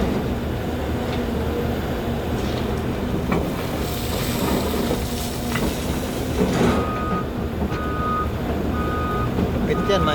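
A truck drives beside a backhoe work site, its steady engine rumble running throughout with intermittent reversing beeps near the end, while people talk in the background.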